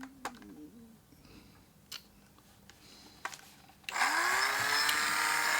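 A small drill bores tiny 0.7 mm holes side by side in the body of a DJH 2MT 2-6-0 model locomotive kit; after quiet scattered clicks and taps, the motor whines to life up close and holds a steady high buzz.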